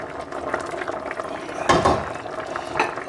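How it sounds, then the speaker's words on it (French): Chicken and olive sauce boiling hard in a pot: a steady close bubbling and gurgling with occasional louder bursts of popping, continuous throughout without talk. "les 2 premières minutes, on peut faire bouillir comme ça un gros bouillon."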